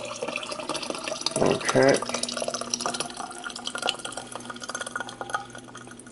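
Hot garlic chili oil is poured through a funnel into a container, giving a brief burst of splashing and trickling liquid, followed by lighter dripping and clinking, with a short spoken word nearby.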